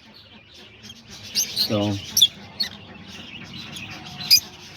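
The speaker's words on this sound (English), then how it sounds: "these are all the peach phase lovebirds" Peach-faced lovebirds, budgies and cockatiels chirp in a breeding aviary, giving scattered short sharp tweets at moderate distance, while someone speaks briefly.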